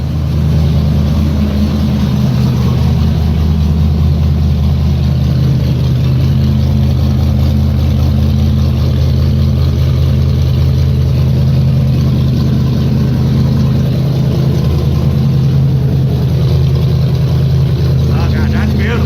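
A 1993 Chevy K1500 pickup engine idles steadily while warming up, a close, loud, continuous low rumble that holds even for the whole stretch, with no other notable sounds.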